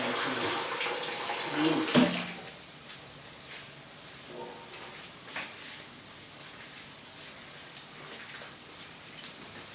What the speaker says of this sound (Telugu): వాటర్ వేస్తున్నాను.